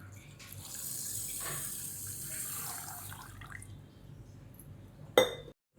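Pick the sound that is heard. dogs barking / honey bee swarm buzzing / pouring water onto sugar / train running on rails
pouring water onto sugar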